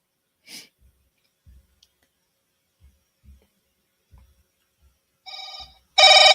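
An outgoing phone call's ringing tone: after near silence with faint thumps, a short tonal ring burst sounds, then a louder, fuller one cuts in right at the end.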